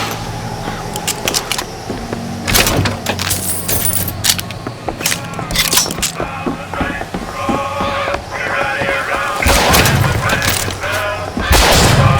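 Bioshock Infinite combat erupts in loud, repeated gunshots over a busy mix of game effects, clinking and rumbling, with sharp cracks scattered throughout and voices shouting at times.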